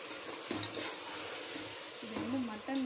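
Marinated mutton sautés with chopped tomato in a pan for biryani, crackling steadily while a utensil stirs and scrapes in quick strokes.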